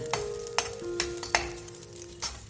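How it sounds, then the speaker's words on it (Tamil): Raisins and cashews frying in ghee for aval payasam, a soft steady sizzle punctuated by several sharp ladle taps and scrapes against the pan. "இப்போ கிஸ்மிஸ், முந்திரி இதை போட்டு நம்ம கோல்டன் ப்ரௌன் கலர் அளவுக்கு பொரிச்சு எடுத்துக்கலாம்"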